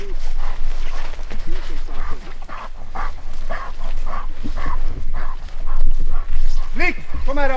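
A hunting dog in a Swedish forest on a capercaillie and black grouse hunt yips, barks and whimpers in excited bursts, close and loud, while someone talks and calls to it over the noise.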